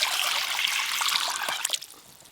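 Tap water trickles and splashes steadily as red lentils are rinsed in a kitchen, close and bright, thinning out toward the end.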